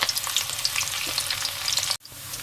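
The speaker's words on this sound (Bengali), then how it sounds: "ওই একই তেলে আমি পেঁয়াজটা দিয়ে দেব, আর সাথে দেবো কাঁচা লঙ্কা কুচি।" Onion and chopped green chilli frying in reused hot oil give a dense, close sizzle that runs steadily, then cuts off abruptly near the end before a brief quieter hiss.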